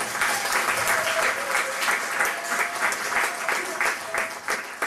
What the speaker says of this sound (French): Merci beaucoup, on peut l'applaudir s'il vous plaît.